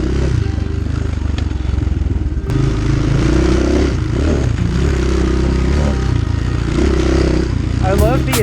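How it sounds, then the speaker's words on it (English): A Chinese 250cc Templar dirt bike on a summer single-track trail ride, its engine and exhaust droning loud and steady with rough, rattling throttle variations, while a rider talks over it throughout. "I love the exhaust system on the Templar, but I actually wish it was a little bit quieter."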